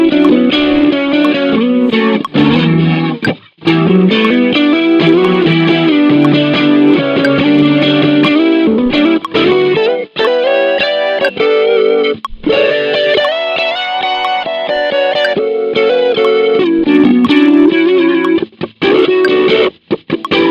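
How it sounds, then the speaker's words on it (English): The multivoicer vocoder in the Archetype Tim Henson guitar plugin gives a loud, continuous stream of layered, harmonized chords that shift in pitch, with short gaps between phrases. "That's how you use the multivoicer on Archetype Tim Henson"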